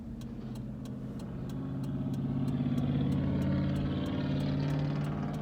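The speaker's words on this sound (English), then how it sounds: "UPS truck." A UPS truck drives past on a road leading to the freeway, its engine swelling from moderate to louder as it nears and then holding a steady rumble.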